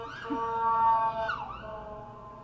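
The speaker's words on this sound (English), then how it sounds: "there's an ambulance going by" An ambulance siren wails and sweeps in pitch as it passes, loud and close, with no talking.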